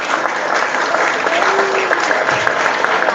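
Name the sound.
audience applause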